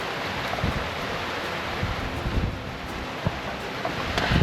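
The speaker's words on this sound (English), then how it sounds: "Oh, it is pouring." Heavy rain pouring down outside a cabin, a steady dense broadband hiss with scattered sharper drops and gusty swells, no voices.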